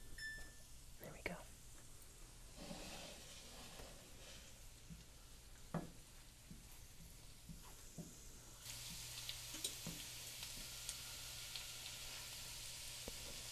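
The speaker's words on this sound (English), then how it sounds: "I'm going to turn down the heat a little bit on this butter sage sauce because it's starting to smoke a little too fast." Butter sage sauce sizzles in a hot pan with a constant crackling hiss that grows louder partway through, under a soft whispering voice and occasional stirring clicks.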